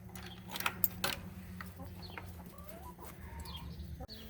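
A flock of about 25 chickens clucks inside a deep-bedded coop, soft overlapping clucks and calls with a few sharp knocks, fairly quiet throughout.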